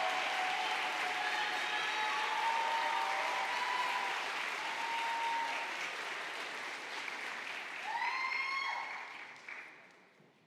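A college awards ceremony audience gives sustained applause that holds steady for several seconds, then thins out and fades near the end.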